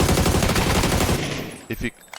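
Rapid automatic gunfire in the video game PUBG rattles in a dense, loud burst, then fades into a few scattered, more distant shots.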